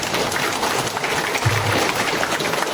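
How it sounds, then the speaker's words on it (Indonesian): Applause from the audience at a rector's inauguration ceremony at Universitas 17 Agustus 1945 Semarang: a steady, dense wash of many hands clapping together, continuous and moderately loud throughout. "Mohon untuk tepuk tangan bersama."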